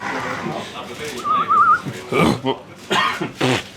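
A short wavering whistle rises and falls for about half a second, partly under speech, followed by more talking.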